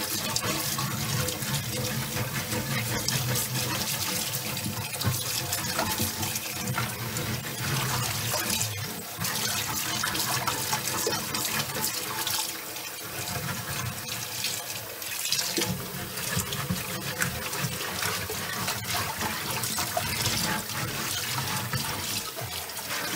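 Hot water runs steadily from a tap while a cast iron pan is scrubbed with a chain mail scrubber, giving a continuous splashing gush with rough, uneven scrubbing texture and brief dips in the flow.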